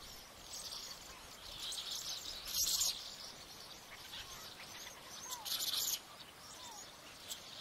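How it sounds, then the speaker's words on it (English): Seabirds call at night on Aiktak Island: storm petrels and ancient murrelets give high, chirring calls over a steady hiss of wind and surf, with a few louder bursts and faint wavering trills from birds nearby and farther off. "Nights on Aiktak are raucous with storm petrel and ancient merlet melodies."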